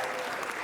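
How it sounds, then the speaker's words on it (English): A choir concert audience claps for a soloist, a brief, dense burst of applause from a crowd in a hall, fairly quiet. "So we'll give her another round of applause."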